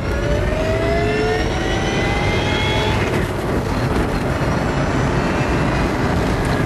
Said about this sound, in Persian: میخوایم با این اتومبیل یک شتابگیری بکنیم